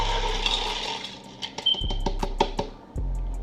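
Water and ice tumbling into a blender jar for a homemade smoothie, a close splashing pour with clinking, rattling ice bursts and short gaps between dumps.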